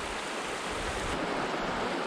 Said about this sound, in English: That's about a 30-foot waterfall right there.